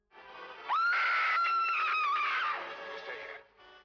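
A woman lets out a long, loud, high-pitched scream that wavers and holds for a few seconds before trailing off.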